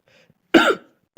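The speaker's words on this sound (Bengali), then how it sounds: "ঠান্ডা লেগে গেছে, কাশি হচ্ছে" A person with a cold coughs, a single harsh, close cough after a faint throat sound, followed by the start of another cough at the end.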